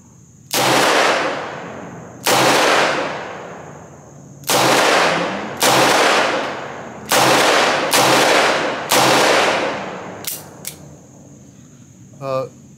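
A Smith & Wesson 586 L-Comp revolver firing 135 grain Critical Duty magnum rounds outdoors, seven sharp, loud shots at irregular intervals, each with a brief decaying echo.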